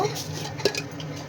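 A spoon stirs food in a cooking pot just after salt and sugar go in, giving a brief close scrape and a light metallic clink.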